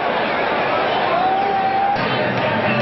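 Football stadium crowd at an Eagles versus Buffalo game in 1993 booing and murmuring over a called timeout, a broad, steady roar from many distant voices.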